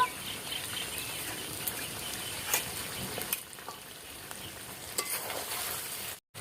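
Mutton stirred with whole garam masala in a frying pan gives a steady sizzle and scraping stir throughout, moderately close, with a brief drop near the end.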